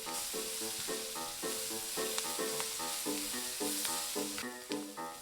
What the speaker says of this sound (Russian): добавляем к ним сладкий перец и кабачок. Снова размешиваем. Жарим 2 минуты.